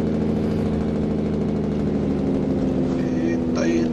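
Truck engine brake in American Truck Simulator, a steady low mechanical drone running throughout at moderate loudness, with a brief higher whine near the end.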